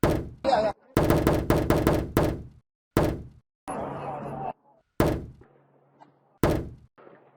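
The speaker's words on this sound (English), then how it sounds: "an officer first deployed a 40mm less lethal foam projectile to stop him" A 40mm less-lethal foam projectile launcher fired by police during a tense confrontation, heard as loud sharp thunks and bangs among shouted commands and other voices, close and forceful.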